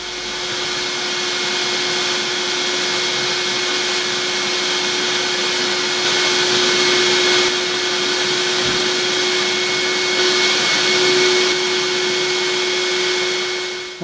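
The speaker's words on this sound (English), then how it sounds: "I need to do a bit of a hoover round." A vacuum cleaner hoovers ash off the top of a biomass boiler during annual cleaning, giving a steady, loud, close whine and rushing airflow that holds for the whole stretch with slight shifts as the nozzle moves.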